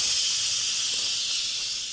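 Steam hissing while hibachi is cooked at home, a steady broad high-pitched hiss that holds loud and even for about two seconds before easing off slightly at the end, with no voices over it.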